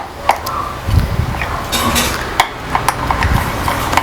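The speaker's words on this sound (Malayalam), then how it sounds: "നന്നായി ഇളക്കി കട്ടകളൊക്കെ ഒന്ന് മിക്സ് ചെയ്തെടുക്കുകയാണ്." A spoon stirs wheat mug cake batter in a cup to break up lumps, giving quick scraping clinks and taps against the vessel, close and fairly loud, with no talk.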